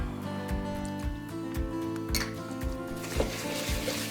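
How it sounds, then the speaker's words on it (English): A whisk works through thick blondie batter in a bowl, giving a rhythmic series of soft scrapes and taps against the sides, steady and close with no talking. "just whisking until it's totally combined"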